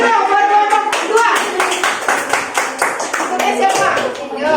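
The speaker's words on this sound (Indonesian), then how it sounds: "Tepuk tangan dulu buat kelompok kedua." Classroom applause for the second student group, a dense burst of many hands clapping fast and loud for several seconds, with voices mixed in.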